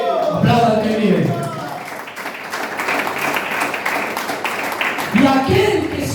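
A church congregation at a worship service breaks into applause for about three seconds of broadband clapping. A preacher's voice is heard before and after the applause.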